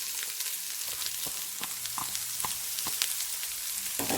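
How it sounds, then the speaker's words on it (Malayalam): Capsicum, carrot and cabbage tossed into a hot frying pan for chicken fried rice give a steady close sizzle, with faint stirring scrapes and small pops across the whole stretch. "ഇതിലോട്ട് നമ്മൾ എടുത്തു വെച്ചിരിക്കുന്ന നമ്മുടെ വെജിറ്റബിൾസ് ഇട്ട് കൊടുക്കുക"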